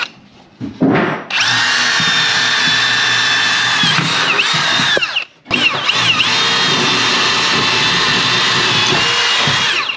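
AEG 18V cordless drill running loud and close, a steady high motor whine that winds up, holds for several seconds, cuts out briefly, then spins up again for a long sustained run.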